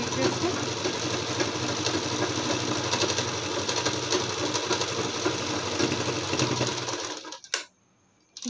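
An electric sewing machine stitching a palazzo hums and whirs loudly and continuously for about seven seconds, then stops abruptly and leaves near silence.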